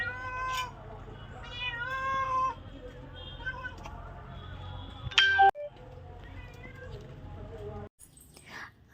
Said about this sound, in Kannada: ನಮ್ಮನೆ ಕ್ಯಾಟ್ ನೋಡಿ ಯಾವ ಥರ ಮಾಡ್ತಿದೆ.